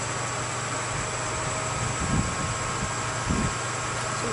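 A wood lathe turning a table-leg blank at roughly 750 rpm gives a steady, continuous motor hum and broadband whir, with a few faint scraping touches from the tool, alone and without speech.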